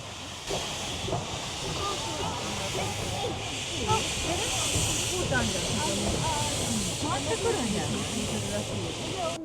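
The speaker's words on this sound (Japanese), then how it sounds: "まずトーマスが一度客車から離れていきます。" A Thomas-themed steam locomotive on the Oigawa Railway pulls away from its passenger coaches, hissing continuously with rumbling rail noise, while people talk nearby over the sound.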